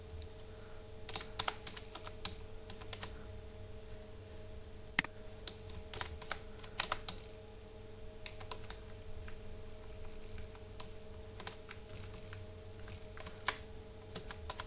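Someone types on a computer keyboard while writing PHP code, producing quiet, irregular clusters of key clicks over a steady low electrical hum, with no talking.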